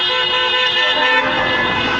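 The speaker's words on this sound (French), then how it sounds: "Écoutez ce concert klaxon," Many car horns honk together at a motorway toll booth during a protest, a loud, sustained chorus of overlapping tones with no gaps, close and continuous.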